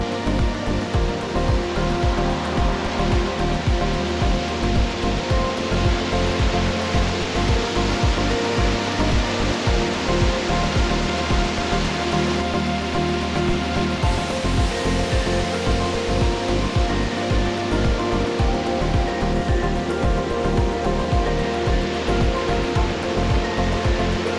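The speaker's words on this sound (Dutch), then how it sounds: "Onderweg naar Geiranger maken we nog even een tussenstop om een waterval te bekijken" A Norwegian waterfall on the road to Geiranger roars in a steady, dense rush of falling water that stays loud and unbroken throughout, with no voices.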